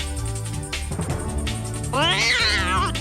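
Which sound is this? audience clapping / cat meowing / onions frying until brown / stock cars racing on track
cat meowing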